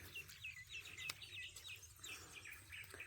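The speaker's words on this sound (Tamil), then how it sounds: "இந்த குருவிகளோட கத்துற சத்தங்களை கேட்டாலே" Small birds chirp and twitter repeatedly in short bright calls, fairly faint over a low background rumble, with no one talking.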